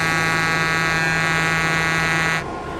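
Train in a Roblox railway game, an Ultimate Super Chief hauling coaches, giving a steady loud electric hum with a constant pitch and buzzing overtones that cuts off sharply near the end.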